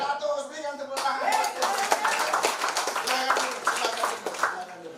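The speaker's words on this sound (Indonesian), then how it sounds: "Berikan tepuk tangan." Church congregation claps in applause during a worship service, a burst of many hands starting after a second and continuing steadily, with voices mixed in.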